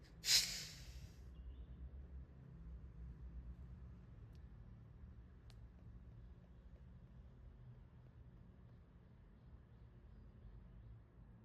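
One deep breath ending in a sharp, forceful exhalation at the start of an Agnisara Kriya yoga practice, followed by a long stretch of quiet room hiss.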